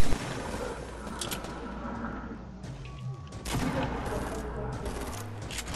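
Rapid gunfire from a three-shot burst weapon in the Fortnite video game rattles amid busy game sounds, with dense cracks building louder toward the end, and voices talking at times.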